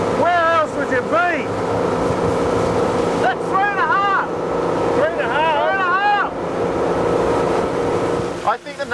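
A Bertram 25 Flybridge Cruiser runs at wide open throttle, its engine a steady, loud drone with wind and water rush throughout, while people shout and talk over it.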